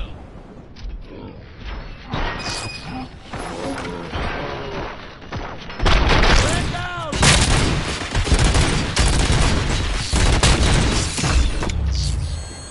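Gunfire and heavy impacts in the Robocop Rogue City video game, dense bursts of shots and booms building louder after the first few seconds, mixed with game voices and clanking mechanisms.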